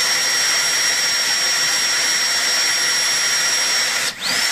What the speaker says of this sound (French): je fais le petit trou là